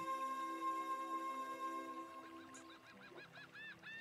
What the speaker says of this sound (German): Unterschiedliche Vogelstimmen, die jetzt ihr Liedchen singen.